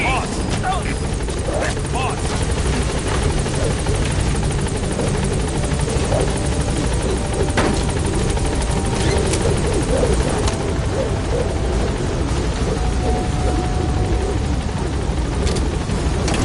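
Helicopter from the video game Metal Gear Solid V hovers loudly and steadily throughout, its dense rotor thrum and engine whine filling the scene with constant intensity while faint voices come through underneath.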